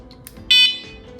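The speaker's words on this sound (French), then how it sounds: "Oh, un petit bip un peu différent d'avant." A short, bright electronic startup beep from a 2022 eTwow GTS electric scooter sounds once, close and clear, with a faint tone briefly before it and quiet background hum.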